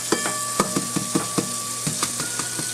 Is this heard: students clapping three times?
no